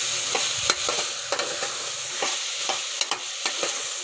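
Peas and tomatoes frying in hot oil in a pan, a steady close sizzle broken by scrapes and clinks of a spoon stirring every half second or so, with no talk.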